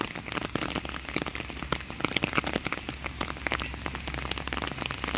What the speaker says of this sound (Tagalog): Kasi mabasa sa ulan.